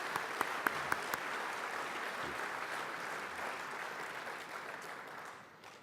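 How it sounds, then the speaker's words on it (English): A crowd claps steadily in sustained applause, dense and even, fading slightly toward the end. "pat them on the back or shake their hand and give them some applause"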